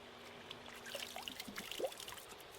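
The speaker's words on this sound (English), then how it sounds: "if the water's flowing, it's safe to drink" A creek along a mountain biking trail trickles and burbles quietly, with soft splashing and gurgling water sounds and no voices.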